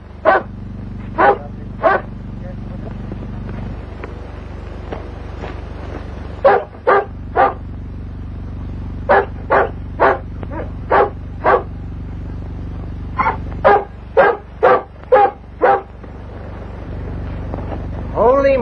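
A dog barks repeatedly at night, sharp loud barks in irregular clusters over a steady low hum, pausing between volleys.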